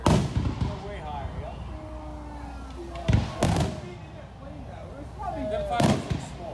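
Fourth of July fireworks burst high in the sky at a distance, sending three or four muffled booms a few seconds apart, with people talking faintly between the blasts.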